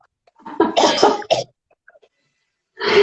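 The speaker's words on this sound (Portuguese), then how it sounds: "Desculpa, uma tosse aqui agora." A close, harsh cough in a couple of rough bursts, then a short pause and another cough, with quiet room in between.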